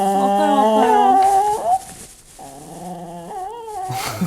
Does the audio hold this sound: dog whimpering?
yes